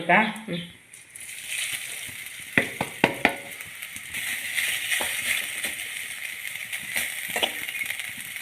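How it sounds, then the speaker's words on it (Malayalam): Grated coconut roasts in a pan for a Kerala-style roasted-coconut crab curry, giving a soft continuous sizzle with a few sharp scraping and stirring clicks, close and moderate in level, while someone talks over it. "നമുക്ക് ഇതിൽ തേങ്ങ വറുത്തെടുക്കാം"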